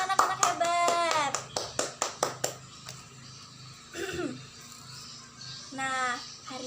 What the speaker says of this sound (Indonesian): tepuk tangan untuk anak-anak hebat